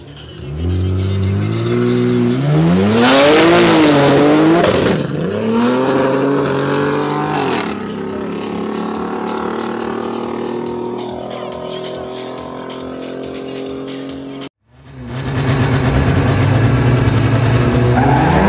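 A BMW 335i and an M550d race in a semi-final battle at a 400-metre run event, engines roaring and revving hard with tires squealing, loud and close, then a sharp cut and renewed engine roar.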